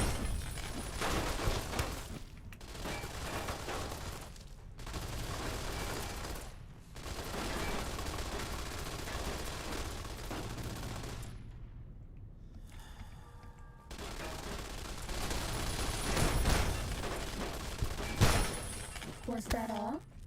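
Automated turrets fire guns in Fallout New Vegas in long, dense bursts of rapid gunfire separated by brief pauses, with sharp cracks and clattering impacts building toward the end.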